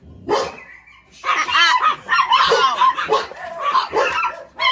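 A dog barks and yips excitedly in a rapid, loud, close run of barks, with a few whimpery high notes mixed in.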